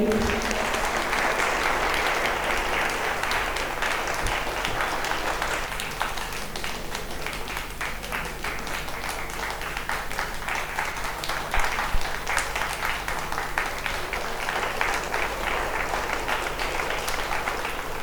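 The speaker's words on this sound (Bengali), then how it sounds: "একটু জোরে হাততালি" An audience at a coaching centre in Kalna applauds students who passed SSC GD 2024, with long, steady, dense clapping that holds for the whole stretch and a low hum beneath.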